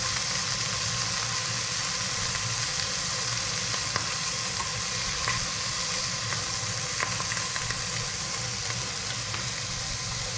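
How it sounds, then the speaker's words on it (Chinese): Fish slices are dry-fried in a pan on maximum heat. A steady, dense sizzle runs throughout, close and loud, with scattered small pops of spattering oil. "有煎就一定会有带出油嘛，有听到啪啪啪的声音了哈"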